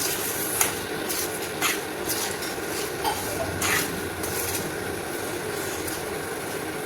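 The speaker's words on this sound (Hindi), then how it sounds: "मैं थोड़ा सा चम्मच से इसको मिक्स करती हूँ" A spoon stirring radish pickle with hot chili, giving scattered soft scrapes and clinks against the container over a steady background hiss.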